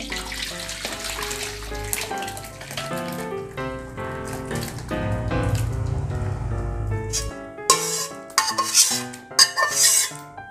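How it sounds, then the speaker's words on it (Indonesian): Beef for Banjar-style bistik is moved back into a wok and stirred, with clanking utensils, metallic scraping and bubbling liquid in a steady run that turns into sharper, separate knocks near the end. "kita pindahkan lagi ke wajan"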